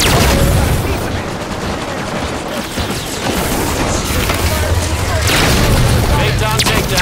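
Heavy gunfire and booming blasts fill a Halo 5 Firefight battle on Escape From ARC, loud and continuous with bursts and explosions, while voices talk over the fighting.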